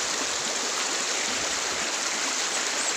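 A river stream flows steadily in Maasin province in the Philippines, its clean, cold water running among bamboo trees with a constant broadband rush and no voices.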